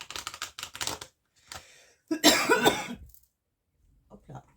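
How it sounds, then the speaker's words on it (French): A person coughs from incense smoke in a harsh burst after some brief talk, then goes quiet with a faint sound at the end. "c'est mon encens qui me fait tousser"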